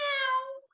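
A cat gives one clear, close meow that slides downward in pitch and then trails off into quiet.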